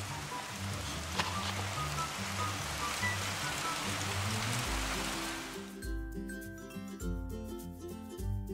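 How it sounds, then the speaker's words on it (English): Steady rain pours down in a dense hiss for most of the clip, then gives way to music as the rain noise drops out near the end. "It's raining, I gotta close it really fast."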